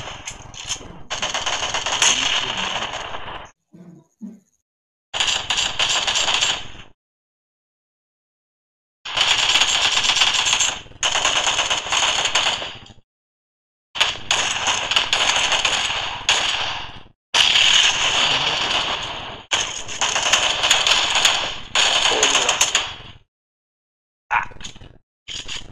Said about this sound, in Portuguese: Não dá pra escutar por causa dos tiros